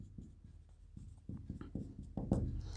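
Code notes get written out during a programming lecture, a close run of quick pen or marker strokes with short scratchy bursts, growing busier toward the end, no speech over them.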